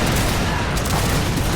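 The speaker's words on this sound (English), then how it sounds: "Oh, they're shooting." Massed musket fire in Mount & Blade multiplayer combat, a dense continuous crackle of many shots blending into a loud, steady roar throughout.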